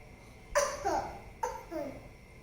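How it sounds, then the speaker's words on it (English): Two short, soft coughs, each a quick double burst, separated by a brief pause and heard fairly close. "Suddenly started coughing"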